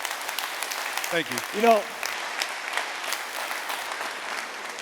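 Audience applause at a luncheon keynote program, steady clapping from a large crowd continuing under a voice speaking briefly partway through.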